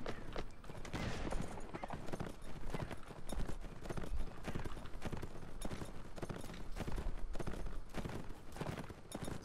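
Horse hooves clip-clop rapidly and continuously in the Mount&Blade L'aigle video game, a busy galloping rhythm with occasional gunfire-like cracks mixed in, moderately loud throughout.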